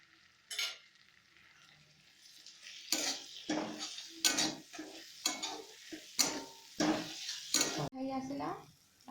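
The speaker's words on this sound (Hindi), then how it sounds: "रसुण पेस्ट पकाला" Garlic paste stirred and frying in a pan with onions for a home chicken curry, with repeated scraping clatters of a spoon against the pan over a soft sizzle, close and fairly loud.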